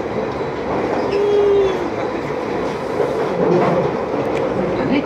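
A London Underground Piccadilly line 1973 stock train running between stations, a loud, steady rumble of wheels on track with brief wheel squeals, heard from inside the carriage.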